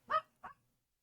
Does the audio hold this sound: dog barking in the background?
yes